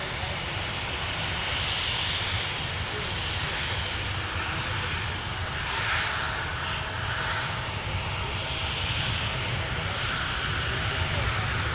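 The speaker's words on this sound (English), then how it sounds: "There is our A330-300 outbound to Amsterdam." Airbus A330-300 jet departing Minneapolis airport, outbound to Amsterdam: a steady, broad engine roar at a distance fills the whole stretch, with talk over it.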